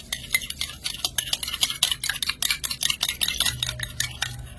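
Two spoons of water and two spoons of white oil whisked together in a bowl for savory biscuit dough, making a quick, steady run of close, bright clicking strokes without any talk.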